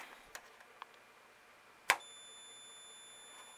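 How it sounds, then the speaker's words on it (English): A multimeter continuity beep while probing an Atari Centipede arcade circuit board: one sharp, brief tone that stands out clearly against quiet bench noise, followed by a faint steady ring, with a couple of small clicks before it. "If I take the multimeter and do a little continuity,"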